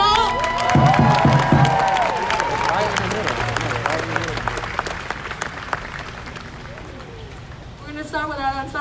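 Crowd at a protest in Sacramento clapping, cheering and whooping, with whistles and shouts over steady applause that gradually thins, then a short burst of voices and whistles near the end.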